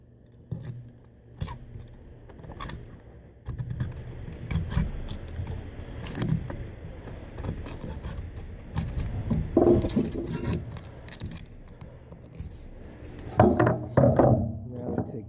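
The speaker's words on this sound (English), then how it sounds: "we will start with the knife and finish it nicely with the scissors" A beer can being cut open, first sawed with a knife and then trimmed with scissors, giving close, irregular metallic snips, scrapes and crinkles with louder bursts near the end.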